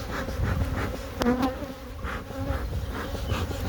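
Honeybees buzz steadily throughout an opened hive during inspection, a dense close drone with a few brief louder passes of individual bees near the ear, no voices over it.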